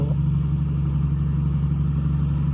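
A tractor engine with 115 horsepower runs steadily and close by, a low, even drone with no voices.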